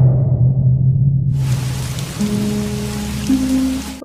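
Heavy rain pours in a steady, loud wash that fills the whole scene, with low tonal hum and a rising drone layered beneath it; no voices.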